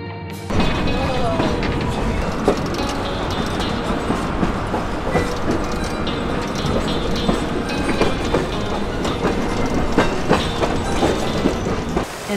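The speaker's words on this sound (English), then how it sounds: "A train ride through Verde Canyon." Train riding through Verde Canyon, a steady rumble with wheel clatter and rattling carriage noise throughout, loud and continuous, with voices faintly mixed in.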